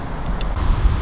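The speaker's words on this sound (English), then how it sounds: "It's gusting, and it was this morning as well. It's gusting at like 35." Gusting wind blows across a golf course and buffets the microphone, giving a continuous low rumble with uneven surges over about a second.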